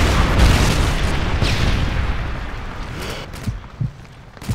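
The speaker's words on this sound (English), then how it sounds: "Friendly Predator missile inbound." A Predator missile explodes in the Modern Warfare 3 video game with a loud, deep boom that rumbles and fades over a few seconds, followed by a few scattered thumps and pops.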